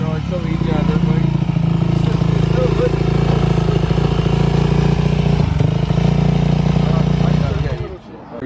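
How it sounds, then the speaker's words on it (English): A dirt bike engine revs hard and steady for several seconds with a buzzing, clattering note, close and loud, before cutting off abruptly near the end. "hold the clutch in, rev, and it just goes"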